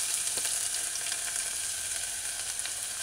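Onions, pimento berries and mashed garlic sautéing in a little oil for a vegan cabbage and carrot stew, a steady bright sizzle close up with faint stirring and no talk.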